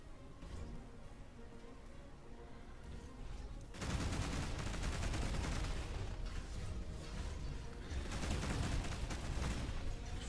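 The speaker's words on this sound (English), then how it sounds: "Fires off a lot of shots." Rapid weapon fire in the space game Between the Stars, a dense continuous barrage that bursts in suddenly after a quieter stretch and keeps rattling loudly to the end, with no speech over it.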